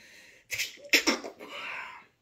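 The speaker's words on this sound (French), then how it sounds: "Désolée, je vais éternuer." A single close sneeze, preceded by a short sharp inhale and followed by a breathy exhale, with quiet surroundings.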